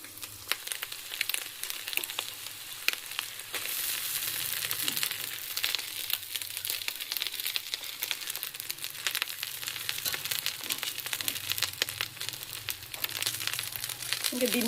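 Rice sizzles as it is stirred in a hot pan with egg, chili powder, salt, turmeric, curry leaves, garam masala and chaat masala, a steady close frying hiss with scraping stir sounds throughout.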